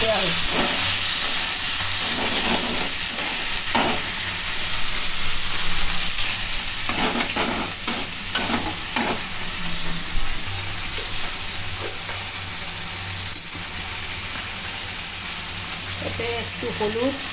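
A paste of tomato, ginger and green chilli fries in a pan, giving a continuous crackling sizzle broken by scraping stirs, close and fairly loud throughout.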